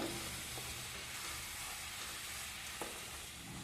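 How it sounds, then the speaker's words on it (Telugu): Jaggery melts and sizzles in a pan, a steady soft crackling fizz with faint stirring scrapes, low and close with no voices. "బెల్లం కరిగిపోయింది"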